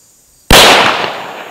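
A single sharp, loud gunshot fired at a target cracks out close by, then decays over about a second.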